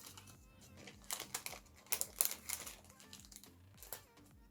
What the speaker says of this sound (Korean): 키트의 포장지를 열어서